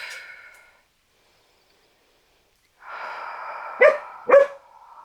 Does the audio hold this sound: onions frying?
no